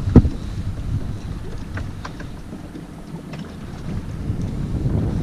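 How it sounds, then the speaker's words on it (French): A boat engine drones low and steady under gusts of wind buffeting the microphone at sea, with no voices. "elle entend le moteur"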